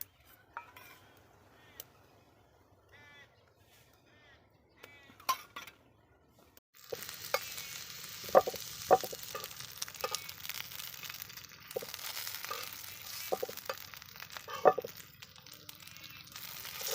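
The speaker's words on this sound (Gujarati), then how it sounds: "તો આપણે 2 મરચાં તળી નાખવી" Green and red chillies fry in hot oil. Several seconds of quiet utensil clinks give way to a continuous sizzling hiss, with a spatula scraping and clattering against the pan.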